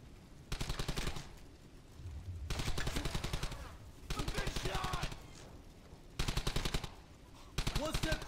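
Sustained bursts of rapid automatic gunfire from soldiers in the World War II shooter Brothers in Arms: Hell's Highway, several long volleys separated by short pauses, loud and close with faint battlefield chatter behind.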